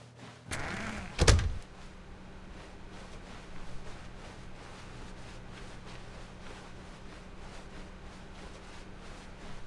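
A door opening in The Stanley Parable video game: one short, solid clunk near the start, then a long stretch of quiet, steady room hum.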